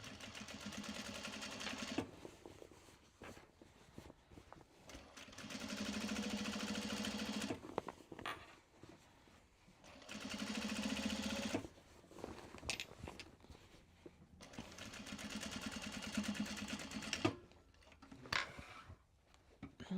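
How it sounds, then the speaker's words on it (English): A sewing machine stitching Japanese fabric for a drawstring bag, running in several steady bursts of a few seconds each with quiet pauses and fabric handling between them, close and fairly soft, with no talking. "The machine was sewing nice."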